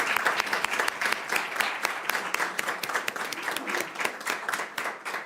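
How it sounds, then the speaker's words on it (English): An audience at an official report release claps steadily in a sustained round of applause for staff, dense, even and fairly close throughout with no break. "like to give our staff a huge round of applause"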